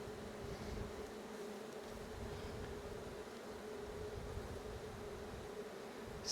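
A soft, continuous buzz of many honey bees swarming nearby on a windy day, steady and fairly quiet, with light breezy rustle underneath.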